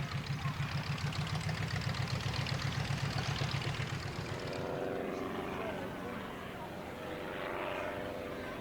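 A propeller biplane drones loudly overhead at an evening air display, its engine pulsing steadily before the pitch drops and the sound fades into a broad roar.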